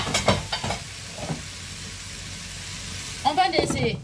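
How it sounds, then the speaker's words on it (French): Zucchini and eggs cook in a covered pan with a steady low sizzle and hiss, broken by a few louder bursts of clatter or bubbling at the start and end, with faint talk in the background. "On va laisser mijoter au moins pendant 2 minutes"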